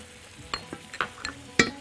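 Tomatoes frying in a pan with salt, pepper and spices give a faint, low sizzle, broken by a few light scrapes and clinks from stirring over about two seconds.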